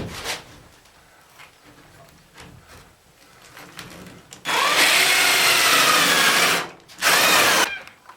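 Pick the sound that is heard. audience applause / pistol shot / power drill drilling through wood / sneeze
power drill drilling through wood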